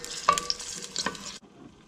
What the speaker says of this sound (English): And just let them brown all over the olive oil.